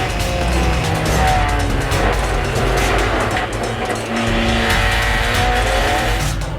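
Drift car passing on a track with loud, sustained tire squeal and engine roar, continuous and close throughout with no talk.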